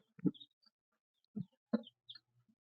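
A small group of Rhode Island Red chicks peeps in short, scattered bursts close by, some soft thumps and rustles among them, with quiet gaps in between.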